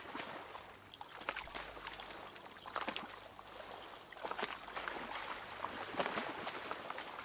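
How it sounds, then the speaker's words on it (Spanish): Faint, irregular water splashes come from close to the side at a yellow perch fishing spot, with scattered soft sloshes and drips over quiet outdoor background noise. "¿Por qué escucha a mi izquierda chapoteo?"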